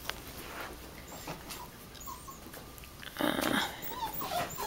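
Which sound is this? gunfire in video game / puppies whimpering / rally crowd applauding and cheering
puppies whimpering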